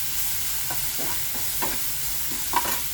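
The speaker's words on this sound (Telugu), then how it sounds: "అల్లము ఎల్లుల్లిపాయ పేస్ట్ చేసుకున్నా వేసుకోండి కొంచెం చెంచి పచ్చివాసన పోయిన వరకు వేసుకోవాలి" Ginger-garlic paste sizzles steadily in a hot pan with scattered scraping and stirring strokes for a Telugu ivy gourd masala curry, a clear tap near the end, no talking.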